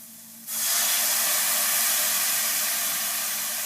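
White wine hits a hot pan to deglaze it, bursting into a loud, sudden hiss of sizzling steam that holds steady and close after a quiet moment.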